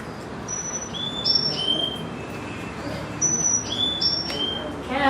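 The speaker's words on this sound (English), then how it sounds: "that's a Carolina chickadee." A Carolina chickadee calls in western North Carolina, giving short, high, clear whistled notes in small groups against a steady outdoor background hiss, moderately near.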